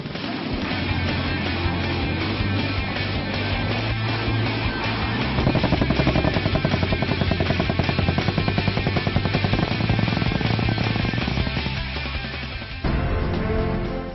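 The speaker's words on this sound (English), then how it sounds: "Say namaste to the light combat helicopter." An Indian Light Combat Helicopter (LCH) flies by, rotors thumping in a steady rapid rhythm under a loud engine whine, sustained and fairly close throughout.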